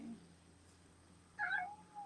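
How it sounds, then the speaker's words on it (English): A house cat lets out a single short meow indoors. It is faint and slightly distant against a quiet room hush, and no one speaks during it. "I'm gonna have to let this cat out."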